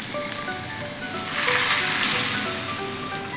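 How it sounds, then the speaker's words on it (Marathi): Hot tempering poured over a Maharashtrian cucumber salad (koshimbir) gives a steady, loud sizzle that swells midway and then settles, with no voices. "आणि आता ही फोडणी आपण या कोशिंबीरवर घालून घेऊया"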